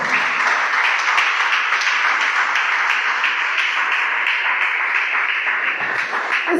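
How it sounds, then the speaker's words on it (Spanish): A church congregation at a worship service applauds the King with loud, sustained, close clapping that stays dense and steady throughout. "dale un aplauso al Rey"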